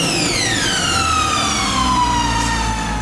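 A ProCharger supercharger on a C8 Corvette lets out a loud, steady high-pitched whine whose pitch falls as the revs drop, running over a constant engine drone.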